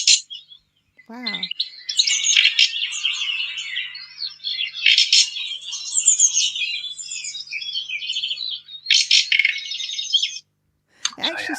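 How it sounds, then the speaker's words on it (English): A nightingale gives close, clear bursts of chattering song with rough croaking and churring notes, breaking off briefly between phrases before a final short call. "It actually sounds quite insect-like, that croaking."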